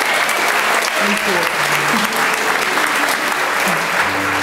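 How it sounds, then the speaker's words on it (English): Audience applause for event volunteers fills the room, a dense steady clatter of many hands clapping throughout, with a brief spoken thanks heard over it. "let's just give a big round of applause for all of the volunteers that are here"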